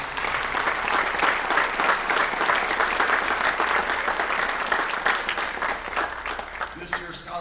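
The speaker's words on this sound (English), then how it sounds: "And a big round of applause for the Dollars for Scholars staff." Applause from the audience at a high school awards night, honoring the Dollars for Scholars staff, fills the room in a steady, full burst before tapering off as a voice starts speaking at the end.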